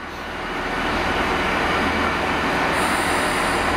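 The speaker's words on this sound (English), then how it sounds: "here we have the Portsmouth train leaving platform 3." A Portsmouth-bound train rumbling and building in loudness as it pulls away from a platform at Cardiff Central, with a steady roar of wheels on rails.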